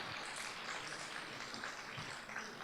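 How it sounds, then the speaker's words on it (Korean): Audience applause at a 2015 public service fair innovation concert welcoming a museum director, a faint, steady spread of clapping from a crowd heard at a distance. "이지윤 디렉터님을 박수로 맞이하겠습니다"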